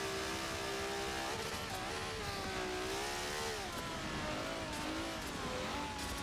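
Race car engines in a Super Saloons racing video game whine loudly and continuously, pitch rising and falling as the cars accelerate and shift through the lap, with no talking.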